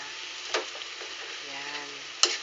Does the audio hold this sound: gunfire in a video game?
no